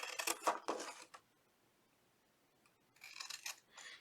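Scissors snip through paper boxes in a few quick, crisp cuts, close and fairly quiet, with a silent pause between the two groups of snips.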